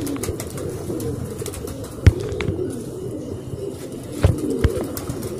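Pigeons of many colours and breeds at a pigeon club coo in a low, continuous murmur, punctuated by a few sharp wing claps and brief flapping bursts, heard alone without voices.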